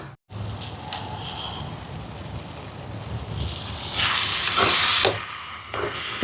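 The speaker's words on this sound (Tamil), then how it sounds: "பாருங்க வெங்காயம் வதங்குது, இன்னும் கொஞ்சம் வதங்கட்டும்." Onions sauté in a pan over an outdoor wood-fire stove in Jaffna, with a steady hiss under wind noise and a louder sizzling burst toward the end.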